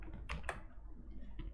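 A few quiet, close keystrokes tapped on a computer keyboard, a couple of sharp clicks followed by softer scattered taps over a low background hum.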